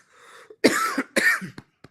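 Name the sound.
coughing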